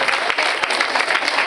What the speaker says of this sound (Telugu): గట్టిగా చప్పట్లు కొట్టాలి, ఇంకా గట్టిగా